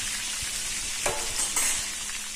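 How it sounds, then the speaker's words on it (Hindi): Vegetable kurkure momos deep-frying slowly in oil, a dense, even, continuous sizzling hiss up close with a few faint knocks and swirls partway through. "अब ये तब तक फ्राई करना है जब तक ये गोल्डन ब्राउन आएगा"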